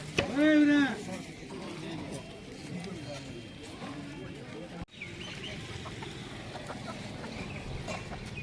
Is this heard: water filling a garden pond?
no